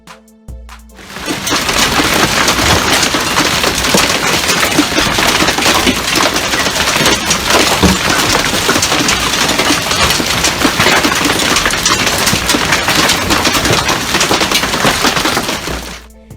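Golf ball-sized hail in Texas pours down without a break in dense, relentless pelting and cracking, a loud hammering barrage of hard impacts that swells in and fades out.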